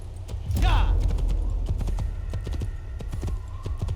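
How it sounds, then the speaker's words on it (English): Horse hooves clip-clop at a steady trot in Assassin's Creed 1, a brisk rhythmic clatter over the game's ambient background, with a short whinny near the start. "I am going to steal this horse"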